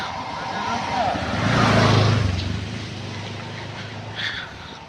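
A vehicle approaches along a road shrouded in dense fog, its engine rumble swelling from far off to a close, loud pass and then easing away, over a steady outdoor hiss.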